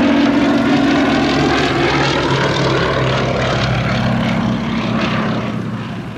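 Westland Lysander high-wing propeller monoplane flying at the Shuttleworth Fly Navy airshow in 2018, a loud continuous piston-engine drone with propeller buzz that fades slightly toward the end.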